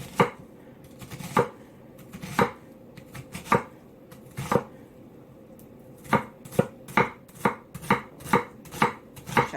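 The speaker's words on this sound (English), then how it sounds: "Chop them up small pieces." A knife chops cabbage into small pieces on a cutting board, with sharp, close thuds, first spaced out, then a quicker steady run of evenly timed cuts.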